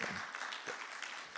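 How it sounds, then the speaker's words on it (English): A keynote audience at an events-industry conference claps, a brief, fairly faint burst of scattered applause. "you guys can give us a little round of applause"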